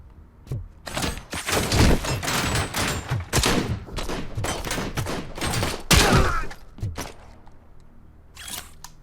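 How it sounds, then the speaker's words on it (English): Machine gun fire in the video game Robocop: Rogue City: loud, dense bursts of rapid automatic shots with impact and shattering crashes, pausing briefly before a final short burst. "the machine gun rounds haven't let me down"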